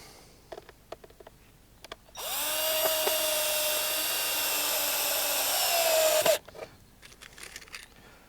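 A power drill drives a 40 mm VBA wood screw into a wooden staircase module, a steady high whine lasting about four seconds, close and loud, framed by quieter handling clicks before and after.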